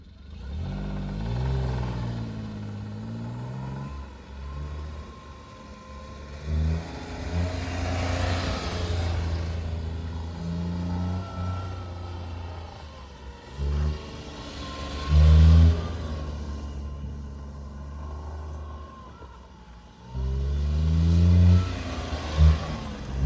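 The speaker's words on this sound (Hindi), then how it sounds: "अल्टो यहाँ पे तो देखते हैं घूमती है कि नहीं घूमती है।" A Maruti Alto's engine revs up and down in repeated surges as the small car turns around on a mountain road between Leh and Manali, loud and close throughout with no talk.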